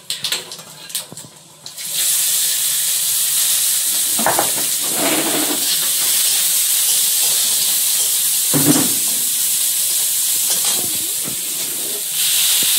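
Panch phoron and onion hit hot oil with a sudden loud, steady sizzle that hisses on continuously after a few faint clatters at the start.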